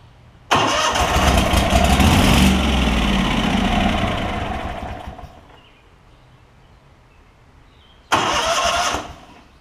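A Kohler Command V-twin engine on a Lincoln Ranger 8 generator welder cranks in a loud, sustained whir of several seconds that fades out, followed by a second short cranking burst near the end, with no talk.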